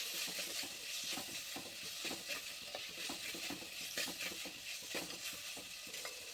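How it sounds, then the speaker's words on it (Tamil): Onions and tomatoes with salt and turmeric powder sautéing in a pan, a quiet continuous sizzle with repeated scraping stir strokes, no voices. "உப்பு, மஞ்சள் தூள் எல்லாத்தையும் போட்டு நல்லா வதக்கிடுவோம்."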